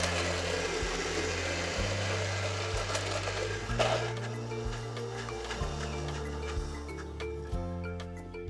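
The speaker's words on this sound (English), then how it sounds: "So in the blender, we've got a mixture of galangal, lemongrass and onion, pureed with an egg, and then chopped up fish and coconut." Kitchen blender pureeing galangal, lemongrass, onion, egg, chopped fish and coconut for a Malaysian curry, a loud continuous motor whir with shifting pitch steps as the thick mixture churns.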